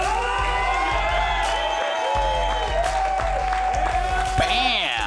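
Studio audience applause and cheering at a televised cooking competition, mixed with loud rhythmic music with a thumping beat and tonal swells, the clapping buried under the music.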